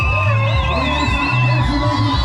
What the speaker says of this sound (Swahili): Anapopita shangwe nyingi na vigelegele kwa Bwana Yesu.